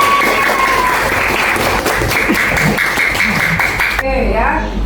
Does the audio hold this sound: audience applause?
yes